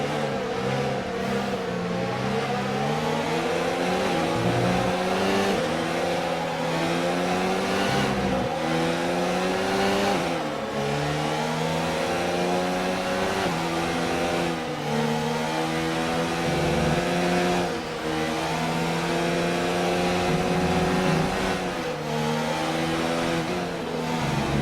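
Formula 1 car engine in a racing video game revving hard and continuously, with rising and falling pitch through gear changes, loud and steady throughout.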